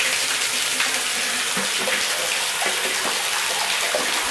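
A bathtub tap runs at strong pressure into a deep tub in an apartment bathroom, with a steady, close gush of water throughout and no talk.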